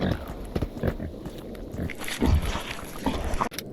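Wild boars in the video game Stalker Anthology grunt and snort amid heavy thuds and scuffling at close range, loud and irregular over game ambience.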